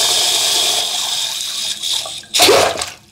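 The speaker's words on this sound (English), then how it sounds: "Turn this on the on position, get some water flowing and show you that there's actually water in there." Water runs from newly installed PEX piping with a steady hiss, then a sudden loud burst of gushing water near the end that spatters and fades.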